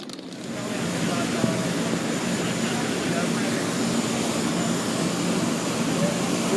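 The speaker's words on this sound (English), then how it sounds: "This is the high-speed ferry that I'll be taking to Bergen." A high-speed ferry's engines droning on the way to Bergen, Norway, a steady broadband roar that holds at a constant level throughout.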